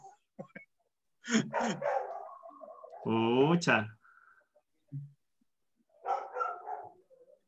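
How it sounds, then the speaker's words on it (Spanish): A dog, a female pet, barks hysterically at politicians on a screen, sharp bursts around the speech in the middle of the clip, with someone talking before and after. "Pero está histérica ladrándole a los diputados."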